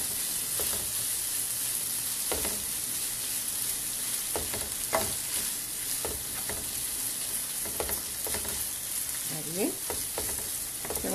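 Chicken and soaked poblano chile strips are stirred in a hot pan, with a steady sizzle of frying running throughout and the scrape of the spoon coming through at irregular moments.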